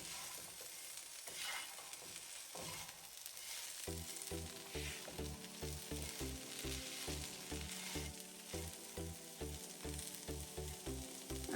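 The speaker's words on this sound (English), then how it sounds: "And I'm also gonna add these potatoes in there. We're gonna mix it, fry for a few minutes." Potatoes and okra fry in a pan for a dry okra and potato dish, giving a steady sizzle that runs throughout, with rhythmic stirring knocks and scrapes joining partway through.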